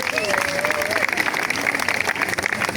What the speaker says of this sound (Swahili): Hebu kila mtu ajipigie makofi.